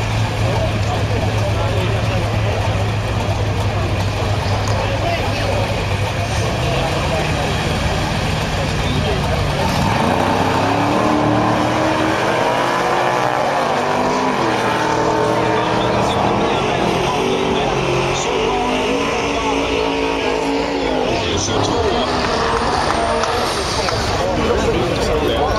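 A 1969 Camaro running nitrous drag races a Nova at a drag strip in Emmaboda, loud engines roaring and climbing in pitch through the run while an announcer talks over the noise.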